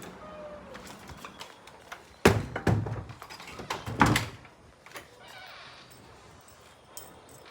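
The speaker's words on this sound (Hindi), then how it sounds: "चाबी मैंने ले ली है और बंद करते हैं," A home door is pulled shut with two solid thumps, followed by lighter metallic taps and clicks as a key turns in the lock, all close by in an otherwise quiet space.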